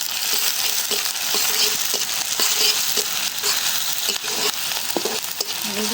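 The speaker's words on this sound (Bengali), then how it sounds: "আমি সবজি ভাজির জন্য পেঁয়াজ মরিচ দিচ্ছি" Onions and green chilies sizzle and fry in hot oil in a home kitchen for a vegetable stir-fry to go into noodles, a steady loud crackle with occasional stirring clicks and scrapes, no voices.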